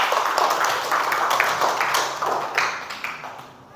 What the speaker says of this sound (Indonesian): Oke, coba berikan tepuk tangannya.